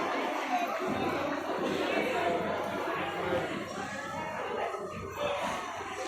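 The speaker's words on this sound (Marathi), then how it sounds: "हे बघा रात्रीचे दहा वाजलेत तरी एवढे दर्शन रांग आहे खूपच गर्दी आहे खूपच" A large crowd waits at night in the darshan queue at Alandi temple on Ashadhi Ekadashi, giving a steady, dense murmur of many distant voices and shuffling, with a person talking nearby.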